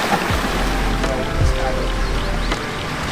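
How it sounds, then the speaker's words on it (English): Water from stream channels pumped into a large swim pond pours down as a waterfall, producing a loud, steady roar and splash heard up close, with a low background hum. "so we can have this great big waterfall going into the pond"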